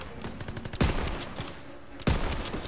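Gunfire rings out in the Call of Duty WWII campaign, with two loud, sharp shots standing out over a backdrop of scattered rapid bursts and battle noise.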